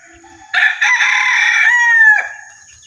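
A mestizo labuyo rooster gives a single loud, close crow lasting around a second and a half, rising then trailing off, in an otherwise quiet setting.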